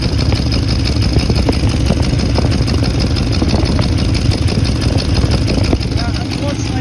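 A Mercedes W126 560SEL idles with a clogged catalytic converter, giving a steady, loud, rough low rumble close up with continuous mechanical clatter and no pauses.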